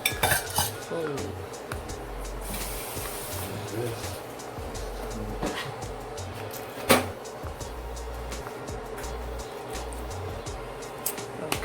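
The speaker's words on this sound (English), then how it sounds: "You just fold them in there." Roasted Brussels sprouts are folded in a pan, producing repeated soft scraping and clinking of utensil against metal with light sizzling, while a person talks throughout.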